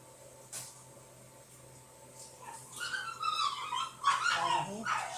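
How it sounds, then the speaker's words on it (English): Dogs whimper and yip nearby, starting quiet and growing louder and more insistent toward the end, with high whining cries. "And that's our dogs."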